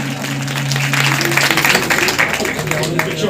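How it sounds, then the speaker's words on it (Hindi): A crowd at a temple celebration breaks into applause, a dense patter of clapping that swells after a moment and carries on over a raised voice and background music. "ताली बजाओ जोरदार तालियों के साथ"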